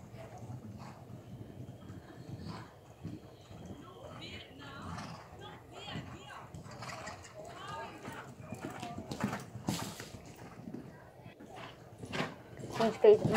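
The horse Lucky Star gallops around an arena, a faint, quick rhythm of hoofbeats on the footing heard from nearby, with scattered thumps and rustles mixed in.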